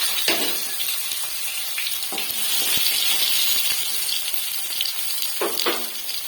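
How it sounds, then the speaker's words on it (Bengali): Boiled potatoes frying in mustard oil, a steady bright sizzle with occasional clinks and stirring scrapes from the pan. "আলু সিদ্ধ করে রেখেছিলাম, সেটা আমি লাল করে ভেজে তুলে নেব।"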